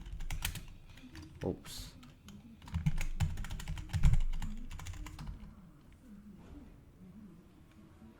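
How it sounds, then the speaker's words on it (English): Password being typed on a computer keyboard, a run of quick irregular key clicks close by with a brief spoken exclamation partway through. "let me just key in my password"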